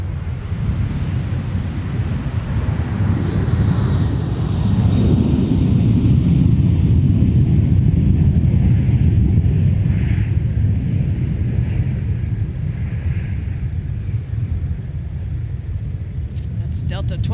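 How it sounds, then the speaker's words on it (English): A Delta passenger jet departing Minneapolis–Saint Paul airport, a loud continuous low engine roar that swells and holds across the stretch, heard at a distance in open air with wind buffeting. "That's Delta 2287 headed out to Phoenix."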